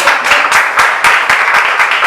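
A church congregation applauds during a Spanish-language sermon, with dense, loud clapping in a quick, fairly even rhythm that carries steadily throughout and has no talk over it.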